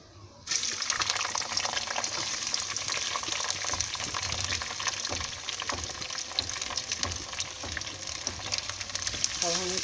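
Chopped small onions hit hot mustard oil in a dal tarka pan, giving a steady, loud sizzling hiss that runs continuously after a brief quiet start.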